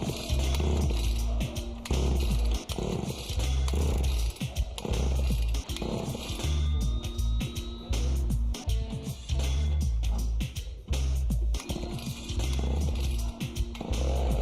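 A chainsaw engine driving tensioned belts on a tyre hoist sputters into life again and again, then bogs and stalls under the drag, giving ragged, uneven bursts of engine noise.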